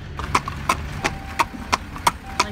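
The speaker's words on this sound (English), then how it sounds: "How you walk horses when you're lazy." Hooves clip-clop in a steady, even rhythm on a hard surface, about three beats per second, close by.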